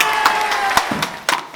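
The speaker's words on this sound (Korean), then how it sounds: "모든 전구자들에게 박수 한번 보냅니다." An audience at Chungcheong University claps and cheers, loud and close, with scattered sharp claps and brief shouts across a short burst of applause.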